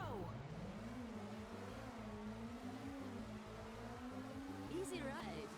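A racing car engine in Super Woden GP II drones steadily and rises and falls in pitch as it revs through gear changes. The engine plays at low volume under the game's background sound.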